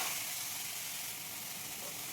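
Pumpkin pieces dropped into hot oil tempering sizzle and hiss steadily, a soft, even frying crackle close by with no one speaking.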